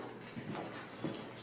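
Hooves of a cantering horse, a few soft rhythmic thuds in quick succession on soft ground, faint and somewhat distant, no talking.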